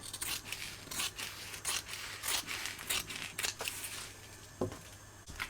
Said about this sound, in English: we can go ahead and trim off the excess at the bottom